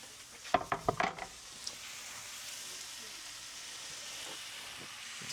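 Tomatoes and peppers piled onto onion in a hot pan set off a steady sizzle and hiss, opening with a few sharp clattering knocks before the frying settles into a quiet, even crackle.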